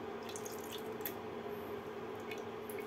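Water poured and splashing into a cooking pan while candied orange peel is being made: a close, gentle trickle with scattered drips and splashes, quiet and with no talking.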